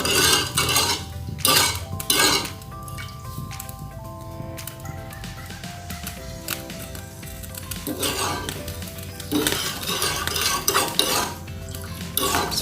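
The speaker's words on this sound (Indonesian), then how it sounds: "Ini kita aduk-aduk terus ya" A spoon scrapes and clinks against a pan while thickening sugar syrup made from granulated sugar and water is stirred, giving repeated close metallic strokes and scrapes with faint background tones and no talk.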